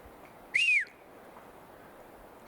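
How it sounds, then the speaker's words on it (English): A single distant deer whistle in a quiet outdoor setting, one short rising-and-falling tone lasting about a third of a second, clear against faint background hiss, with no talking. "That was a whistle."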